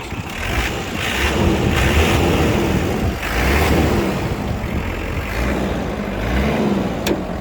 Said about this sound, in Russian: Ну, отсюда и очень приятная работа двигателя